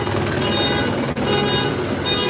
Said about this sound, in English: This car's alarm is going off. That chopper's making a lot of noise.